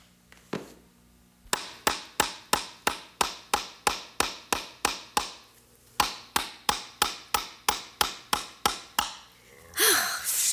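Rhythmic hammer blows on wood, two long runs of sharp, evenly spaced strikes with a short pause between, ending in a brief noisy burst.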